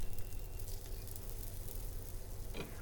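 Tuna and potato cakes sizzling in a little oil in a cast iron pan. A steady, soft frying hiss goes on throughout, and a small crackle comes near the end.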